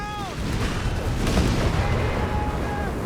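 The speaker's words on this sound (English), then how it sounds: "that was a big explosion as an aircraft went down" Heavy boom of an aircraft crashing and exploding in Company of Heroes 3, a dense, loud roar sustained over about three seconds amid battle noise, with faint whistling tones and some commentary-like voice underneath.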